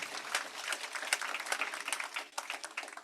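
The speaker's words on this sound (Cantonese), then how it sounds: "我哋俾啲掌聲，多謝耀星俾咁好嘅資源我哋" Audience applause at a business convention, a steady patter of many hands clapping throughout, moderately loud and continuous.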